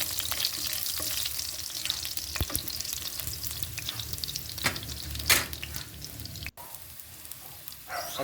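Garlic sautéing in hot oil in a pan, a steady close sizzle with occasional sharp crackles and stirring scrapes, continuing without speech.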